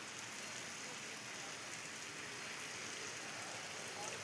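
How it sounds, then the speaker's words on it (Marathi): Heavy unseasonal rain falls in Barshi, Solapur, as a steady, dense hiss of downpour on surfaces that stays even and loud throughout, with no voices. "बार्शीमध्ये जोरदार पावसानं हजेरी लावली असून"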